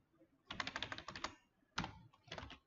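Computer keyboard typing on an Ubuntu machine during setup work: two quick bursts of key clicks, fairly close and clear, with a short pause between them and no talking over them.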